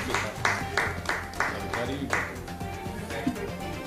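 Six or so sharp, evenly spaced hand claps ring out over about two seconds, then fade into a busy background with voices.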